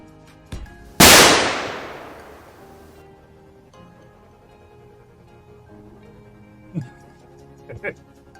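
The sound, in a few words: explosion in a video game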